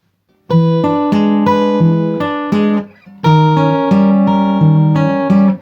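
Fingerpicked acoustic guitar plays a chord pattern with alternating bass, pausing briefly before repeating the same chord shape moved down half a step, clear and close, from the traditional tune Deep River Blues.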